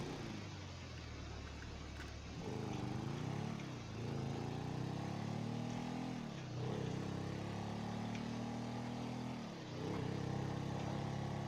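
Motorcycle ridden through the city in Grand Theft Auto 5, a fairly faint, continuous engine drone that rises and falls in repeated revving swells as it speeds up and shifts, with no talk.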